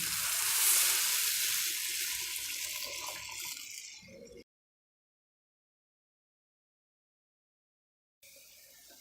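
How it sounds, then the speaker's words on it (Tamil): Tamarind water is poured into a pan of lightly fried ground masala for a ray fish curry, giving a steady watery rush for about four seconds before a silent gap and a faint return of sound. "இப்போ எடுத்து வச்சுருக்க புளித்தண்ணியை ஊற்றிப்போம்."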